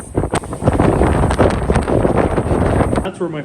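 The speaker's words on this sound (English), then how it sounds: "90 kilometers of wind gusts" Strong wind gusting to 90 kilometres per hour buffets and roars across the microphone in heavy, continuous gusts, loud and close throughout.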